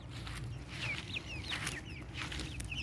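Backyard chickens cluck softly and chirp in short, scattered calls, fairly close, over a steady low background hum.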